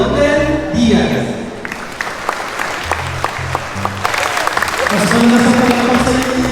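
An audience at a Philippine National Railways project event claps for a public official, a moderate round of applause that rises and falls, with a speaker's voice and background music over it.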